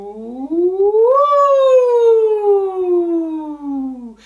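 A voice imitates a siren during an acting warm-up, a single sustained tone sliding up from low to high and then gliding slowly back down, loud and clear with no other sound.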